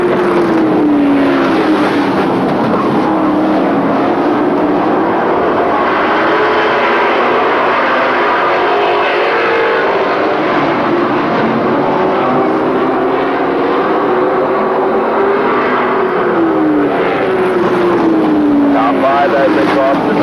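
Racing pickup trucks roar around an oval track in a pro truck series, a loud continuous engine drone with pitch sweeping up and down as trucks pass, under steady race commentary.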